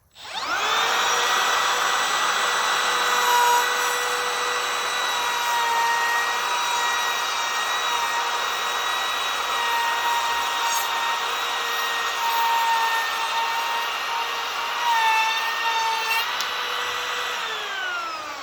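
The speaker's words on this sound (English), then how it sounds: "I'm gonna plunge down what feels like about halfway, and then you'll see me lock the router in place, and then I can plunge right through" A cordless plunge router on a track cuts a slot in wood, giving a loud, sustained high whine throughout with slight shifts in pitch as it plunges and feeds, close and alone without talk.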